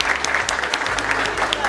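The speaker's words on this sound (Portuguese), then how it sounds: "Palmas pra Isla." An audience claps for a girl named Isla at a school special-day event, dense continuous applause at close range with a low hum running underneath.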